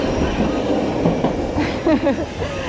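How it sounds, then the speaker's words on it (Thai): A tram running on a street alongside cars in Japan, heard as a steady rumbling roll with faint wheel clatter, while someone talks over it close by. "นี่รถไฟวิ่งบนถนนคู่กับรถยนต์เลยค่ะ"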